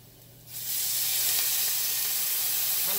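Red wine vinegar hits a hot pan while General Tso chicken is being cooked, setting off a sudden loud hiss at about half a second that holds as a steady, bright sizzle of steam for the rest of the clip.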